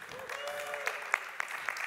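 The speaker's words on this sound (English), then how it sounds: "Big round of applause for Teku." Audience at a community conference talk gives a faint, thin round of applause, a few scattered claps standing out against a quiet room.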